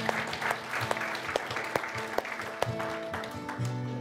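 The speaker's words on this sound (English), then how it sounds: "could we just give God a hand clap for all that He's doing in our church?" A church congregation claps for God during a service, steady dense handclapping with a few sharper claps over a held musical tone, continuous for the full four seconds.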